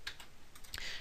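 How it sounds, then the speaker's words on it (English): Keystrokes on a computer keyboard while entering text into Notepad during setup of a Minecraft Beta 1.7.3 server, a short burst of several quick clicks close to the microphone, with no voices. "I'll type that in Notepad"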